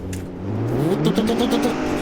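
A BMW X5M engine revs in the BeamNG.drive driving game, its pitch climbing steadily and then holding a high, buzzy whine with rising harmonics, loud and close with no voices over it.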